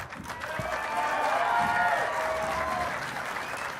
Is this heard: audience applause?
yes